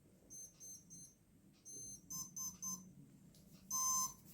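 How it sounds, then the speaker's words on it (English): A drone motor controller from a cheap drone gives its calibration beeps: groups of short, high electronic tones in quick sets with brief gaps between them, ending in a longer, louder pair of tones. The sound is fairly faint and there is no talk. "then you'll hear the beep"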